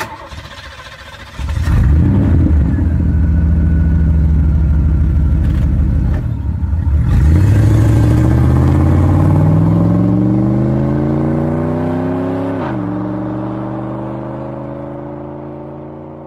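A car engine cranks and catches, then revs loudly and settles into a strong rising drone as the car drives off. The engine grows fainter as it pulls away, with no talk over it.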